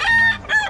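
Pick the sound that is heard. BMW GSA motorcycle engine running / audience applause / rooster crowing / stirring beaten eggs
rooster crowing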